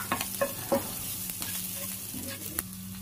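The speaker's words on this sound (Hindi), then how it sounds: "और इनको हम थोड़ा सा यहाँ पे भून लेंगे।" Cumin, green chilli and grated ginger fry in oil, giving a soft continuous sizzle with a few light clicks and scrapes of a utensil, fairly quiet.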